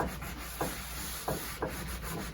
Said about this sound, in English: put my baking soda on that, sprinkle it, and just kind of rub around.